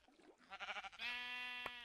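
Sheep bleating in the video game Minecraft, a strong, sustained nasal bleat following shorter game sounds, close and clear with no talking over it.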